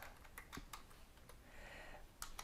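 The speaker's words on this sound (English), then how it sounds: "I'm going to type the word Assets" Keys clatter on a computer keyboard in a short, quiet burst of irregular taps, with a small cluster of sharper strokes near the end and no voices.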